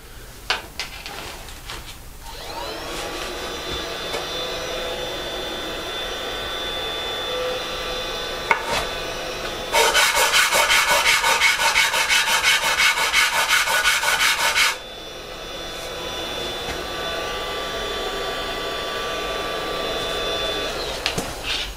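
Steady rubbing and abrasive sanding against yew wood knife scales, interrupted midway by a louder, harsher machine whir for several seconds before the softer sanding resumes.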